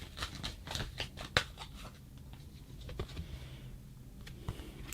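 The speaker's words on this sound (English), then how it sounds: "I shuffle the cards" Tarot cards are shuffled close by in a quiet room, a run of soft, irregular riffling snaps and papery slides with one sharper flick, with no voices.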